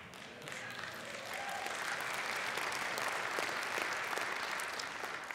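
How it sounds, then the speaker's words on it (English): Sustained audience applause fills a large hall during a sermon, building quickly into a dense, even wash of clapping that holds steady throughout. "I'll take whatever clapping you give at this point."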